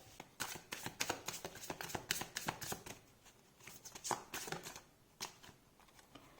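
Oracle cards being shuffled by hand, rapid crisp riffling bursts in several quick rounds with short pauses between, close and fairly quiet.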